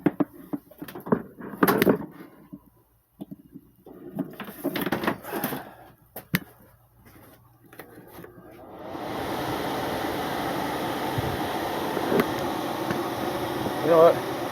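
After a stretch of handling noises and talk, a blower fan fitted with a Rosenthal-type air filter switches on and runs as a steady, close whooshing roar for the rest of the time.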